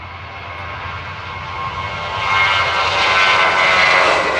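A British Airways jet airliner's engines roar steadily at Amsterdam Schiphol Airport, swelling louder as it accelerates down the runway, a broad continuous rumble and whine.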